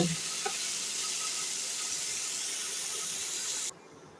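Boiled cauliflower frying in oil with onion, garlic and coriander leaves, a loud, dense sizzling hiss that holds steady and then cuts off abruptly near the end, with a few faint clinks and no voices.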